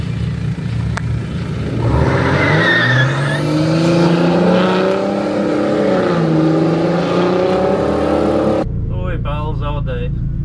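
Drag race car accelerating hard down the strip, its engine note rising loud and close before fading over several seconds, followed by a brief stretch of talking.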